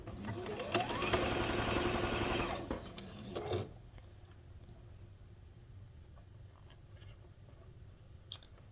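A sewing machine chain-pieces quilt block pieces, running in a loud steady whir for about two and a half seconds, followed by a short burst and quieter handling sounds.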